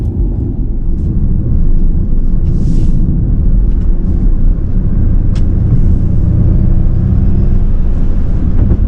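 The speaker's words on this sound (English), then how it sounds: "It's got, I guess, maybe some engine sounds coming through the speakers" A Ford Mustang Mach-E plays engine sounds through its speakers while driving, giving a loud, continuous low rumble with steady road noise and no talk.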